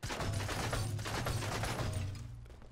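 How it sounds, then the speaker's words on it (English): Automatic gunfire in Fortnite, with a drum shotgun used in mobile play, comes as a steady, dense stream of rapid shots that holds for over two seconds and then tapers off. "So that's auto fire right there."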